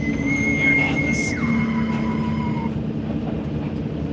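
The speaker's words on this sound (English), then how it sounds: "That's a train unit." A train unit passes in Atlas, heard from an excavator worksite: a steady, loud rumble with sustained whining tones that shift in pitch partway through, running continuously with no pause.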